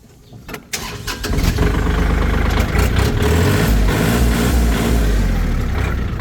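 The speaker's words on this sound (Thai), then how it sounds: "อ่ะฟังเสียงเครื่องยนต์ นิดนึง" A 2021 Kubota L3218SP tractor with blade and rotary tiller cranks briefly, then its diesel engine catches and settles into a loud, steady close-up idle.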